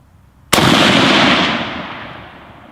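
A single loud gunshot from a WWII Russian sniper rifle cracks sharply at close range, its report then rolling and decaying over the next two seconds.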